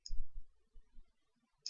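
Soft, close mouse clicks land on an OK button, an initial pair of clicks followed by two muted taps and one final sharp click in an otherwise quiet room.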